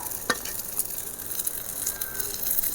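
Kola flying fish frying in a pan with oil, a steady close sizzle and crackle running throughout, broken by a brief scrape near the start and no voices.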